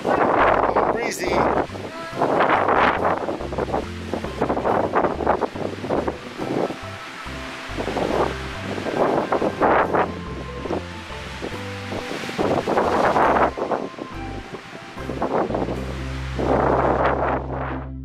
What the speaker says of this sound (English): A little windy, though.